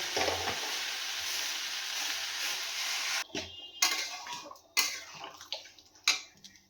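Chicken curry sautéing in a pan, a steady hissing sizzle for about three seconds, then sharp stirring scrapes and clacks punctuated by quieter sizzle.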